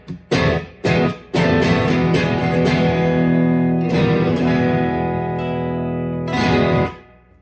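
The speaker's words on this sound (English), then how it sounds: "you're going to need an amp on the edge of breakup" Electric guitar chords through an amp on the edge of breakup, a gritty, slightly overdriven tone, a few short stabs then longer ringing strums, close and loud.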